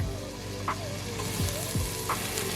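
Garlic sizzling in a pan with sofrito and ground beef, a steady close crackling hiss with a few soft stirring taps.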